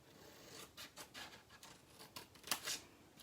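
Scissors snip through craft card between rectangle and square sections, giving soft, quiet, irregular cutting and rubbing strokes close by.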